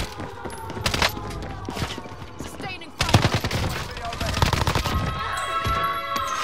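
Sustained automatic gunfire in a multiplayer shooter game match, dense rapid bursts running throughout with a louder burst near the middle, under faint background voices.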